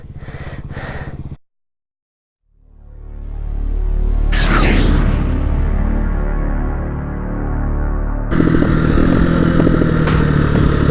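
A dirt bike engine revs up loud and close, holding a steady roar for several seconds after a brief silence, with a clattering burst and a rougher, louder rev near the end.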